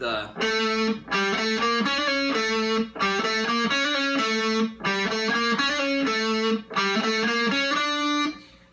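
A distorted electric guitar plays the chugging, repeating main riff of a song in short bursts with brief gaps, loud and close, no voices.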